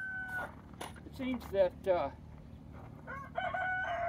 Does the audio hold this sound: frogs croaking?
no